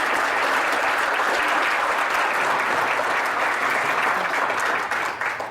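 Hall of fame ceremony audience applauding honorees, thick continuous clapping from a large crowd that stays loud and steady before easing slightly at the end.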